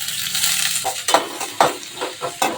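Garlic and onions sautéing in hot oil in a pan, with a soft sizzle under repeated sharp clinks and scrapes of a utensil stirring against the pan at an irregular pace.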